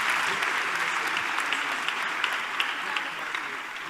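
Congregation applauding the Lord during a church service, a dense, steady wash of clapping with a few sharper claps standing out, with some voices mixed in.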